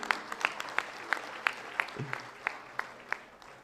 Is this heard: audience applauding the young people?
yes